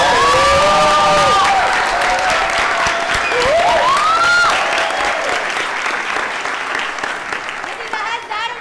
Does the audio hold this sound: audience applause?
yes